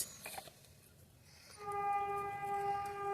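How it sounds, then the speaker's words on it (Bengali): A train passes beside a nearby station, first a faint rumble and then a loud sustained horn blast with steady tones that holds from midway to the end. "স্টেশনের সাইড দিয়ে ট্রেন যাচ্ছে শব্দ করছে"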